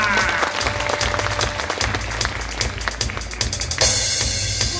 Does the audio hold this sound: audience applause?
yes